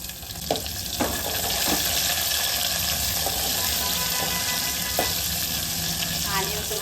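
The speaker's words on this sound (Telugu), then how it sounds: "ఇవి కూడా ఫ్రై అయిపోయినాయి. ఆనియన్స్ వేసుకున్నాం." Onions sizzle steadily in hot oil with cumin, mustard seeds and lentils, a continuous close frying hiss broken by a few sharp clinks of a spoon stirring the pan.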